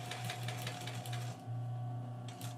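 A sewing machine stitches a zipper onto fabric, running in steady bursts with short pauses between them, close and clear, with no talking.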